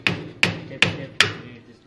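A hammer strikes metal four times in an even rhythm, each blow sharp and ringing with a short decay, as a Sturmey Archer 3-speed bicycle hub is taken apart on a workbench.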